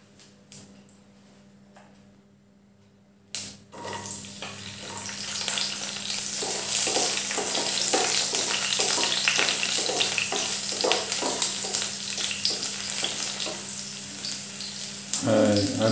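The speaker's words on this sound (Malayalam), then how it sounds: "2 ടേബിൾ സ്പൂൺ ഓയിൽ ഒഴിച്ച് ഇനി അതിലിട്ട് ആദ്യം വഴറ്റേണ്ടത് വെളുത്തുള്ളി" Garlic and ginger sautéing in two tablespoons of hot oil for a hot and sour vegetable soup; after a quiet start a sudden sizzle erupts and continues steadily with stirring clicks.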